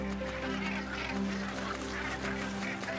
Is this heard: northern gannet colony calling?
yes